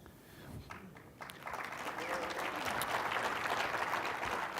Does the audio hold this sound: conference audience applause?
yes